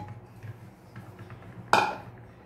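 About 600 grams of ora-pro-nobis fruit tumble into a cooking pot in a single short clatter, close and clear over a quiet kitchen background.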